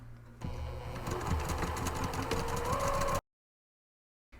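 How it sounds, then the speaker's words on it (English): A sewing machine runs steadily while stitching vertical pocket divider rows on a zippered market tote bag. The close, loud, rapid mechanical whir carries a rising pitch near the end, then cuts off abruptly into silence. "When I stitch these vertical pocket divider rows, I definitely backstitch at the top and the bottom several times to reinforce."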